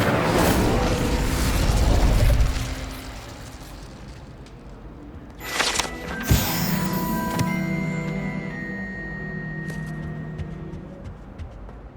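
An Incendio fire spell cast in Hogwarts Legacy bursts out as a loud, rumbling roar of flame over the first few seconds. It then gives way to scattered pops and a softer sustained crackle with ringing tones.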